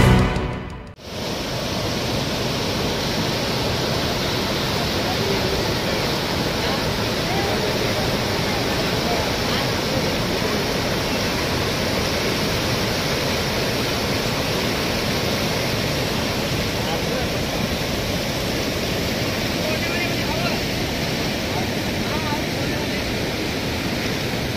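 Floodwater released from Gangapur dam in Nashik surges along the flooding Godavari river, a loud, unbroken rushing roar that holds steady after a brief opening.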